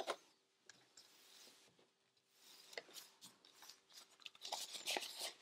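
Close, quiet snips and rustling of scissors trimming the corners of a sewn fabric backpack flap, a handful of short cuts and fabric rubs in an otherwise still room.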